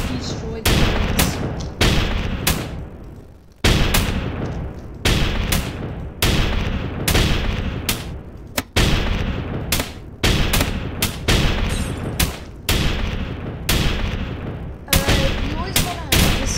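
Units firing in a Roblox tower defense game, a dense run of loud, sharp gunshot bursts repeating rapidly with only brief gaps, close and continuous through the whole stretch.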